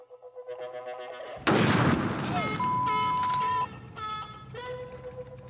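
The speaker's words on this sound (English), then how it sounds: "I'll shoot it from the hip, baby, because there ain't no sights on that gun." A single loud handgun shot fired from the hip, without sights, out in a swamp. It cracks sharply partway through, then rings off into a tonal, musical background.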